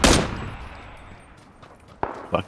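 A gunshot in a shooter video game rings out loud and near at the start, then fades, with two more sharp shots following close together near the end.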